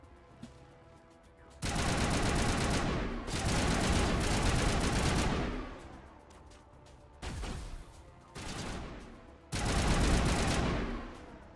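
Gunfire in Mass Effect comes as several long, loud bursts of rapid automatic shots separated by short quiet gaps.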